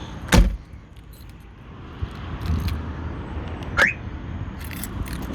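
A Reliant Scimitar GTE gets unlocked, with a sharp clunk of the locks at the start, faint key and handling noises, and a short chirp a few seconds later, all close against quiet outdoor background.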